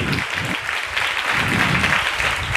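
A church congregation breaks into steady, dense clapping that fills the whole moment, loud and close, with a few voices faintly underneath.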